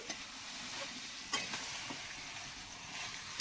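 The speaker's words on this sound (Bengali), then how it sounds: "ওই মশলাটা করা হলো, তবে চিকেন কষা হচ্ছে।" Chicken being sautéed (kasha) in a spice mix in a home kitchen, with a steady low sizzle and fry under faint stirring scrapes, a couple of sharper utensil clicks standing out; no talk.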